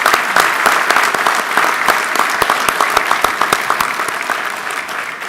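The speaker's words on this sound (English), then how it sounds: "let's give Eric a round of applause here if we could" An audience at an awards brunch claps in a sustained round of applause, loud and close, with sharp individual claps standing out over the steady patter until it tapers slightly.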